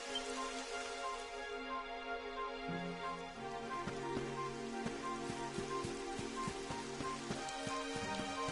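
Rain falls in the video game Dragon Quest XI, a steady soft patter under a faint tonal game soundscape that runs throughout.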